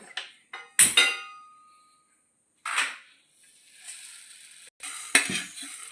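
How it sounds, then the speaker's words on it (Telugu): Mustard seeds and coriander seeds dry-roasting in a pan for a chicken pickle masala, with a few sharp clinks and scraping stirs separated by quiet gaps, close and fairly loud. "ఇప్పుడు వేరే వేపుకుందాం ఈ మసాలా ఫస్ట్ మనం వేపుకోవాలండి"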